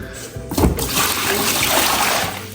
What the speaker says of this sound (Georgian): ვასხავთ წყალს